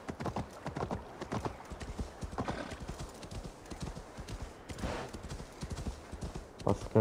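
A horse galloping in Assassin's Creed Valhalla, a steady rapid clip-clop of hooves close up, running the whole way with a brief whinny near the end, while someone talks over it.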